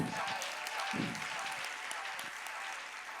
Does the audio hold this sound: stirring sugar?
no